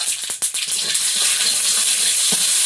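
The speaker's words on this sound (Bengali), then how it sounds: "তেলের মধ্যে শুকনো লঙ্কা আর একটু সর্ষে পাঁচ ফোড়ন তেলে" Dry red chillies, mustard seeds and panch phoron crackle and sizzle in hot oil in a Bengali kitchen, a steady bright frying hiss with a few sharp pops near the start, close and continuous with no talk.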